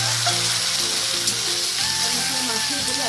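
A spice mix sizzles steadily in a pan over a wood fire, a close, continuous dense frying hiss with faint tonal hum underneath and no clear talk.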